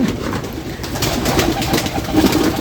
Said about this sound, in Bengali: এটা অবশ্য কবুতর এক জায়গায় বসছে